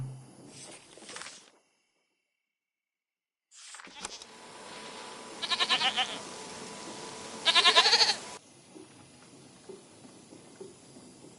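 Goats bleating in the video game Season: A Letter to the Future: two loud bursts of bleating stand out over a quieter, busy game ambience, with a silent gap before them.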